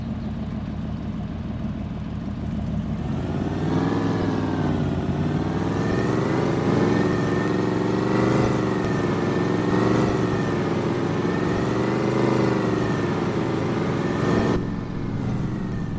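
A loud truck engine in a farming video game runs steadily, its harmonics rising and falling as it revs and settles in a continuous drone.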